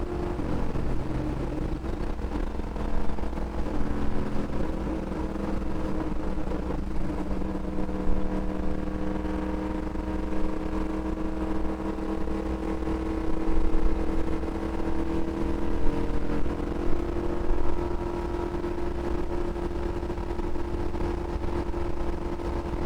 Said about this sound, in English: Down the backstretch. Hit the rev limiter.